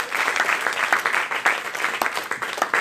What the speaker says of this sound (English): Just give the Lord a hand clap of praise.